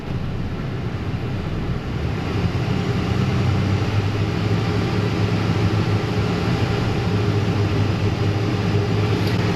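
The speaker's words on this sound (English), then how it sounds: "I'm going to bring the RPM off of idle." A car engine in a repair shop, running with misfires as the RPM rises off idle, a loud steady drone that holds throughout with no one speaking.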